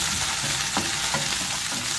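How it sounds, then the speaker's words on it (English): Tomato sauce with oregano cooks in a pot, giving a dense, continuous bubbling sizzle with a few soft stirring strokes, close and fairly loud. "We put the sauce and let the tomato come to a boil."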